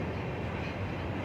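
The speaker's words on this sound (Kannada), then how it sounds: "9:20ಗೆ ಬಾನಸವಾಡಿ ರೈಲ್ವೆ ಸ್ಟೇಷನಿಂದ ಹೊರಡ್ತಾ ಇದೆ" The Garib Rath express pulls out of Banaswadi station with a steady, close rumble of rolling wheels and carriage noise, heard without any voices.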